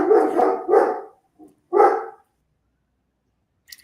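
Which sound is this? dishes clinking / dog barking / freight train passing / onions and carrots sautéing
dog barking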